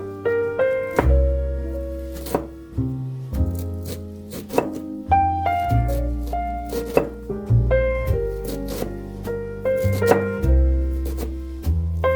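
Sharp knife or cleaver chopping cabbage on a board in a home kitchen, a steady run of close, solid thunks repeating in an uneven rhythm, with no one talking.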